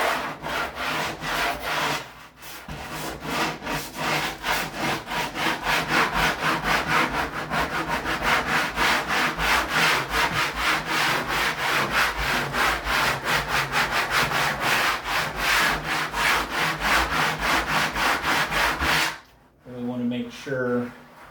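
Wood pieces being bevelled for a model train layout, a steady rhythmic back-and-forth rasping of many quick strokes running for about nineteen seconds, close and loud, stopping before brief talk at the end.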